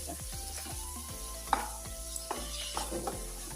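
Ginger garlic paste is sautéed in a hot pan while cooking chana dal, with a soft continuous sizzle under repeated close scraping stirs and occasional sharper clinks of the spoon, and no talking.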